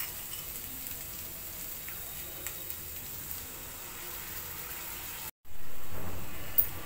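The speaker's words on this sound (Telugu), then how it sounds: "ఒకసారి మిక్స్ చేసేసి ఆయిల్ పైకి తేలేంత వరకు కూడా ఫ్రై చేసుకోవాలి" Yogurt-based curry gravy for a Telugu-style curry frying steadily in hot oil, a soft continuous sizzle that swells louder near the end after a brief cut.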